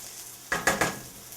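Cooked noodles tossed into a pot of tomato sauce, giving three quick wet, slapping splashes in close succession, near and fairly loud, against a faint background hiss.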